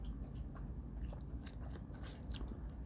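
A Solo flat fig peach is bitten into close up, giving a soft, wet crunch followed by quiet chewing in a still room.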